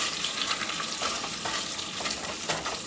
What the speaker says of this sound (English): Just going in with our potato masher, and we're going to give those a quick mash